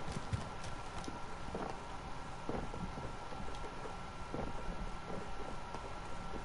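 Rapid footsteps of a player character running in Call of Duty Warzone, a quick irregular series of thuds and scuffs over a steady game background, with no speech.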